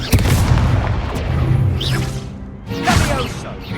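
The Confringo spell explodes in the Hogwarts Legacy video game with loud booming blasts and whooshing bursts in a duel, one impact near the start and another near the end, amid voices.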